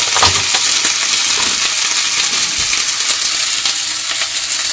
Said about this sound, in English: So let's put in the kimchi.